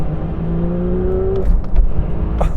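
A Porsche 911 S/T engine revs up in a rising whine, then the pitch drops off with a rumbling, clattery idle and a few light clicks, close and loud inside the car.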